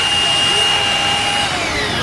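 An SDS-plus carbide drill bit grinding into an abrasive grinding wheel, producing a continuous, loud, high-pitched whine and grinding hiss with steady tonal squeals throughout, up close.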